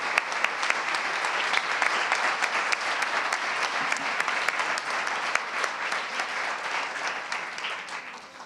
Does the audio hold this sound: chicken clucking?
no